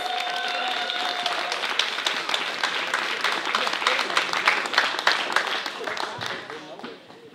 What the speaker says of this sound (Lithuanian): Pasitikime audringais plojimais!